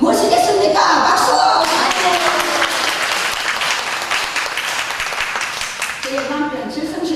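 Applause from a congregation at a Sunday church service, a dense burst of many hands clapping that carries on for several seconds, with a voice speaking over it at the start and end.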